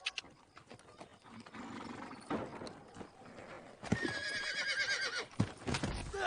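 A horse neighs and whinnies loudly and close, with clip-clop hoof sounds and snorting, in a dubbed Viking action film scene, the calls rising in repeated bursts over about six seconds.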